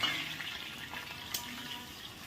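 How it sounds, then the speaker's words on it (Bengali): Carrots frying in oil with cashews and raisins, a steady close sizzle running throughout, with one brief sharper crackle partway through. "একটু গাজর ভাজা হচ্ছে"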